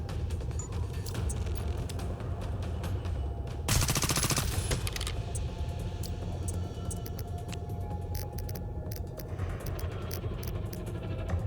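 Turret fire in the video game Reverse Collapse sounds as dense, continuous rapid shots with a louder burst of concentrated fire partway through, over a busy layer of game noise.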